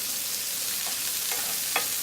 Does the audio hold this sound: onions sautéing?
yes